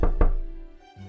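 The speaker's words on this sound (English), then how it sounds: "when there came a knock on the door" Two quick hollow knocks land on a door in an audio play of The House at Pooh Corner, close and solid, followed by a fading resonance and then quiet.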